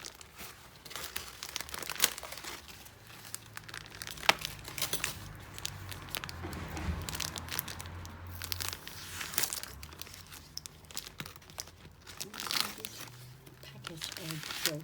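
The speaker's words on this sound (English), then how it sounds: "I have more wet wipes than a normal human being actually needs, but cut the packet open." Packet of wet wipes being cut open, with close crinkling and crumpling of plastic in irregular bursts under a speaking voice.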